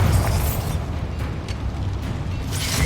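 A Bombarda spell explosion in the Hogwarts video game lands as a heavy rumbling boom, with a deep blast that fades into a low sustained roar and a few faint crackles, and no voices.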